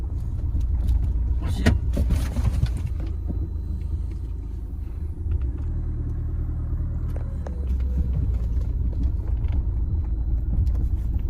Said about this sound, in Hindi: मैं गाड़ी लेके जा रहा हूँ पास में